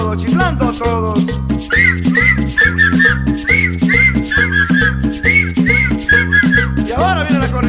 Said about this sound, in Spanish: Y ahora chiflando a todos, chiflando a todos.